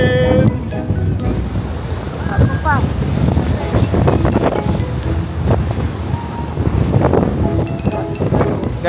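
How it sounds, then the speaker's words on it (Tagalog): Loud, steady wind roars and buffets the microphone at Silver Waterfall in Sapa, Vietnam, with water churning underneath and a few brief voices breaking through. "Ang lakas ng hangin."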